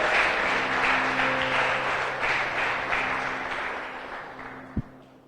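Sustained applause from a church congregation during a sermon, loud at first and slowly fading, ending with a single sharp knock.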